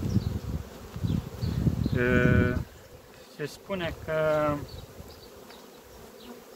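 Honey bees buzz around a hive colony that is being fed syrup, heard in two short, close, humming bursts, with a person talking around them.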